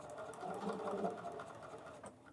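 A sewing machine stitching along a line in foundation paper piecing, a quiet, fast, even whir that runs steadily and then stops near the end.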